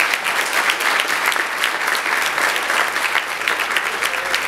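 Audience applause at a community ceremony honoring NAACP board members and local organization leaders, a dense, steady wash of many hands clapping throughout, fairly close and full.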